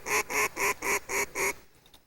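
Duck call blown for gun dog retrieve training: six rapid, loud, raspy quacks in an even rhythm, followed by a short faint tail, with no talking.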